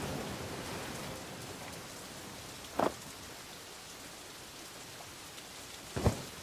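Steady rain hisses in The Dark Eye: Chains of Satinav, an even wash of falling water with two brief louder spatters breaking through, and no voices.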